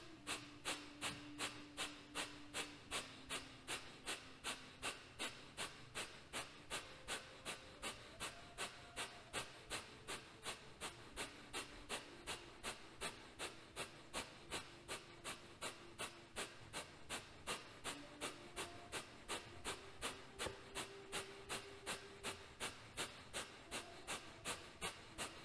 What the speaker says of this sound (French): Kapalabhati. Expiration active par le ventre.